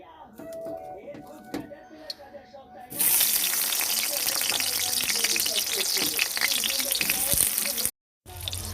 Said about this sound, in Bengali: এরপর আমটা দিয়ে ভেজে নেব